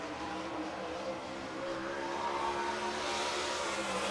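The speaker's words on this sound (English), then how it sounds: "Mashing the throttle onto the front straightaway" A USAC race car on the Red Hill Raceway track, its engine heard as a steady distant roar that swells slightly while the throttle opens onto the front straight, with no voices.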